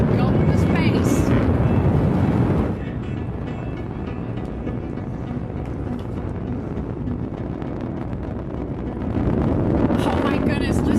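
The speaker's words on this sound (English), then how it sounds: "listen to the roar of the BE-3 engine" A BE-3 rocket engine roars during launch as a steady, broad rumbling rush that lasts throughout, with commentary talk over it at the start and end.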